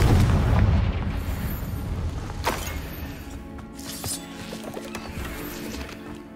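A booming video-game explosion from a Confringo spell hits loud at the start, then decays into a long rumbling tail with scattered debris-like crackles fading out.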